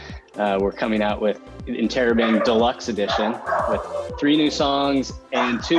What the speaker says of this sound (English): And you get to meet my dog, by the way. Yeah. You can hear her in the background.